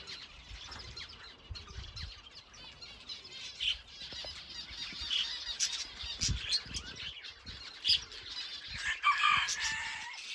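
Chickens cluck and squawk steadily around fresh feed inside a coop, a busy overlapping flock with sharper calls near the end.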